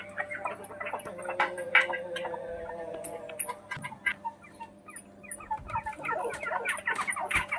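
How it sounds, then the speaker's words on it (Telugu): Hens being let out of their coop in the morning cluck and call in short bursts close by, over a steady low background hum. No voices. "ఇదిగోండి మా కోళ్ళు. పొద్దున్నే లేచి ఇలా వదులుతాను అన్నమాట."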